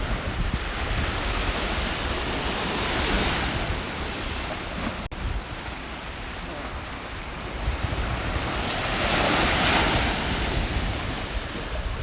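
Surf rolling onto the sand at Nai Harn Beach in Phuket, Thailand, a loud continuous wash of breaking waves with wind buffeting the microphone throughout.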